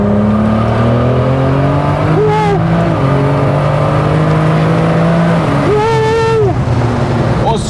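A BMW 325i E36 with a turbo and a DKG gearbox, making about 850 horsepower, accelerates hard from inside the cabin. Its loud engine drone climbs in pitch, with quick gear shifts that drop and then rise again.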